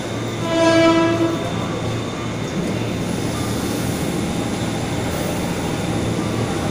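A train rumbles steadily at Manggarai station, with a brief horn blast near the start, then the continuous roar of rail cars rolling along.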